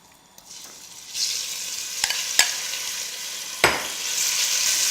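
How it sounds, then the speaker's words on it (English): Beef dropped into a hot pot with a good glug of olive oil, the sizzle swelling after a second into a loud, continuous searing hiss marked by a few sharp pops and spatters. "So getting our pot nice and hot, and a good glug of olive oil. So now we just add in our beef."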